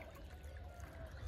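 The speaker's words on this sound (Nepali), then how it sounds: "अब मोटरकै पानी हाल्नुपर्छ" Water from a motor pump pouring onto a farm field in Chitwan, heard as a quiet, steady splashing trickle with no pauses.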